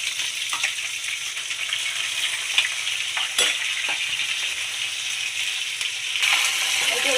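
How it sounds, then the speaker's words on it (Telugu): Food sizzles steadily in a hot pan as it is stirred for a children's tiffin box, a dense continuous fry with small scrapes and clinks throughout, close and alone with no voices. "ఇప్పుడు దీన్ని ఇలా ఫ్రై చేసి చూసారా"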